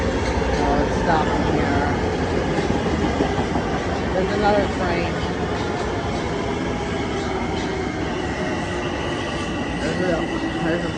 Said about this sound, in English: Stopping here. There's another train.